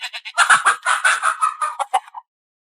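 A rooster gives a loud, close run of harsh, rapid clucking and crowing calls lasting about two seconds, then stops abruptly into silence.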